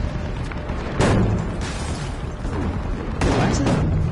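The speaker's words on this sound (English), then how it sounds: "they're landing explosives on us" Explosives land near the player in Battlefield V, with repeated heavy booms and crackling blasts in a loud, continuous battlefield din, a fresh burst near the start and another toward the end.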